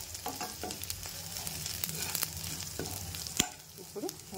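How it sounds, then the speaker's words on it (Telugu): Onions, mustard seeds, cumin and curry leaves fry in oil in a kadai, giving a steady close sizzle with scattered pops and a few stirring scrapes, with no talking. "అదే కడాయిలోనే ఇంకొంచెం ఆయిల్ వేసుకొని ఆవాలు, జీలకర్ర, ఆనియన్, కొద్దిగా కరివేపాకు వేసుకోవాలి."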